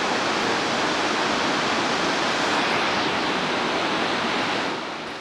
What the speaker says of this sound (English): We are standing by the lower waterfall of the Yellowstone River that gave the park its name, Yellowstone.